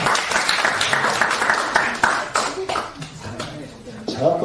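An audience applauds during a Holy Week special evening church service with a missionary speaker. Bursts of clapping run throughout, mixed with people speaking.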